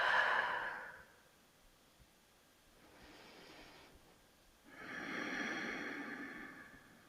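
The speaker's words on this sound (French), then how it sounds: "Et on expire." Soft breaths during a guided beginner yoga relaxation: a gentle exhale, a faint pause, then a longer, fuller exhalation, quiet and close.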